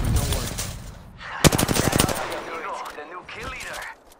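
Rapid bursts of automatic gunfire in the video game Apex Legends, loud sharp shots in dense clusters with a brief pause between volleys and a voice talking over the action.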